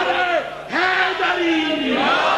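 At a Shia majlis, a crowd of worshippers loudly shouts the religious slogan "Haideri" in unison, a single drawn-out chant that rises and falls.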